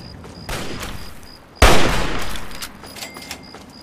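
Gunfire in the Fallout 3 game, a short burst of shots with one loud sharp blast at about the midpoint that trails off, followed by scattered lighter reports.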